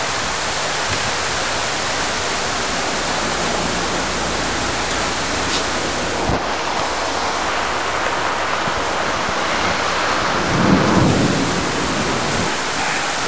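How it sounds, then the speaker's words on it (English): Heavy rain arrives with thunder in Houston, Texas, as a long 2011 drought ends, forming a dense, steady roar with a low rumble swelling near the end. "we have rain coming in"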